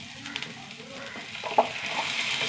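Chopped onion sizzles softly in a hot pan as it wilts, a steady hiss with a few small pops and light stirring noises, moderately close and without speech.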